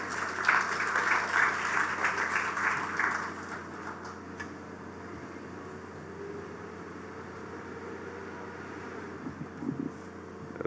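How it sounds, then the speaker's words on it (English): A round of applause from an audience at a government programme launch, fairly strong at first then thinning to a faint, scattered patter over a steady background hum. "Please give him a round of applause."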